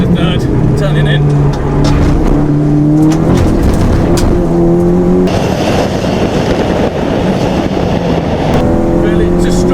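Converted Audi TT with a K04 turbo driven hard on a track, engine droning and rising through the gears, loud and steady from inside the car while people talk over it throughout.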